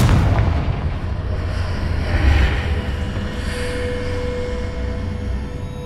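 Confringo blasting spell in Hogwarts Legacy bursts into a deep, rumbling explosion that rolls on as a loud, booming roar with a brief crackling flare, and no one talking.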